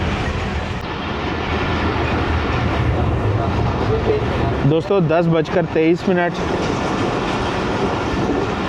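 A passenger train rolls along the rails, heard from inside the carriage as a loud, continuous rumble with rhythmic clatter, while someone talks over it for a few seconds in the middle.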